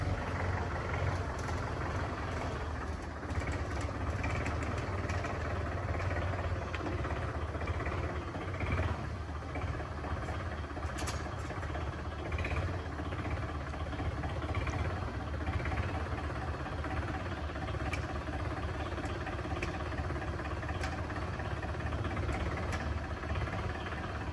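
A steady, rumbling tractor engine runs continuously at close range, its low drone unbroken throughout, with occasional rattles and knocks over the top.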